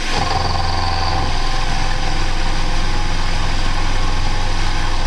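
A mini lathe runs at 1200 RPM while a carbide tool cuts aluminium, a continuous, steady motor drone with a constant whine and grinding hiss throughout.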